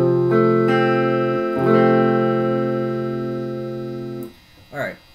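Strummed major-chord variation played without a barre on guitar, sustained ringing chords with a couple of restrums, then fading into a brief closing strum.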